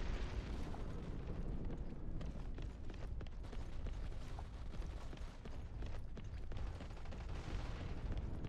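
A grenade blast in the Crossfire X shooter game rolls out as a dense, rumbling explosion that fills the whole stretch with broadband noise and low boom, moderately loud and unaccompanied by talk.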